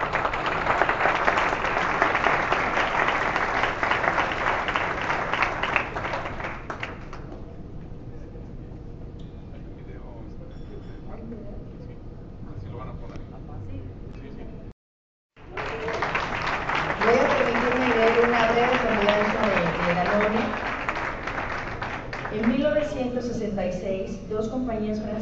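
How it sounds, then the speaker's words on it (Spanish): An audience at an awards ceremony applauds in a loud burst that drops away to a quieter stretch, breaks off briefly, then returns with voices talking over the renewed clapping. "Un aplauso, por favor"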